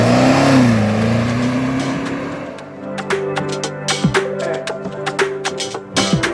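Revving V8 from a restored Jaguar E-type Series 3 coupe fitted with a 450 hp GM LT1 engine: a loud, sustained engine drone rises and settles, then gives way to a run of sharp, separate bursts and clicks.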